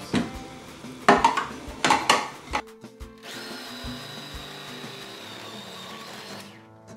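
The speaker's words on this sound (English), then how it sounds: "Now I'm going to grate the apples." Apples, alongside celeriac, being grated: a few rough, uneven scraping bursts, then a steady whirring drone that holds for several seconds before stopping, with no talking.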